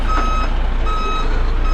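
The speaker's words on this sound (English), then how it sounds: "Our bus has arrived." A tour bus pulling up to a hotel in Peru gives off steady, repeating high reversing beeps over a low idling engine rumble, close and clear with no talk.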